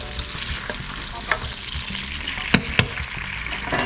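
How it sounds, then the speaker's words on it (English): Julienne-cut onions and garlic sizzle in olive oil for a Spanish chicken stew, a steady crackling fry with stirring scrapes and two sharp clacks near the end, close and continuous with no talk. "dropping the onions that were Julianne cut"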